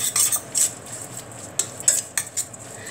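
A spoon stirs chili powder, MSG, fish sauce, salt and pla ra (fermented fish sauce) together in a bowl, giving quick, close metallic clinks and scrapes in short irregular bursts with no one speaking.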